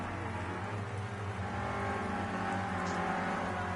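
Clio Cup race cars at Oschersleben circuit, engines droning steadily at high revs throughout, close and continuous with no talk.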